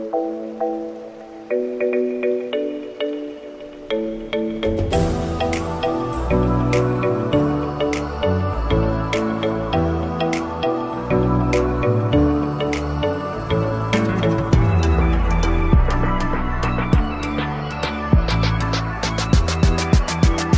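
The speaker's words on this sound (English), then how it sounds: "I think they have like a little ceremony or something down there." A ceremony in Ubud, Bali, carries continuous music: dense layers of tuned metallic tones and steady percussion at fairly high volume, with no voices standing out.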